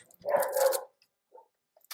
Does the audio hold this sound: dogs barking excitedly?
yes